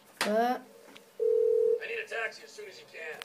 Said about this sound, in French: vous allez prendre le téléphone. Vous appelez le taxi.